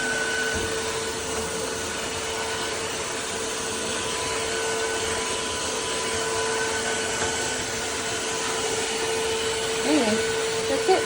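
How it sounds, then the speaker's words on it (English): A Tineco iFLOOR 3 Breeze Complete cordless wet-dry floor vacuum runs steadily and close by with a constant whirring motor hum throughout. "I got the Tineco wet dry vacuum on Black Friday."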